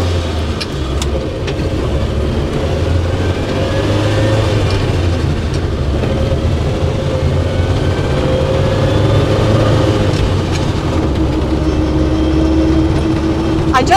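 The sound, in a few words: Bedford CF2 van driving at 30 mph in top gear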